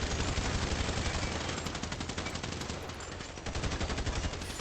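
Dense rapid gunfire in an online multiplayer shooter match, continuous machine-gun bursts rattling without pause for several seconds, loud and close; no talking.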